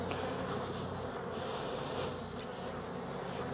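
Angry honey bees swarm around an opened hive, making a dense, continuous loud buzz from many insects close by, with no voices.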